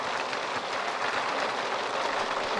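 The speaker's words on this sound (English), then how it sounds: "maybe the hail was kind of stressing me out" Hail pattering in The Sims 3, a dense, continuous hiss of small impacts rattling steadily at moderate level, with no voices over it.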